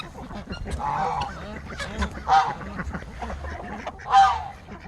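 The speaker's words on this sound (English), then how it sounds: "Juarez, you be nice to the geese." Geese honk in loud, harsh bursts at a backyard bird pen, with three strong calls rising over a steady chorus of nearby fowl.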